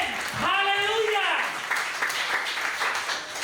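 A church congregation at a Pentecostal service claps hands together, a dense rippling patter of applause that starts with a brief raised voice and carries on steadily under light crowd noise.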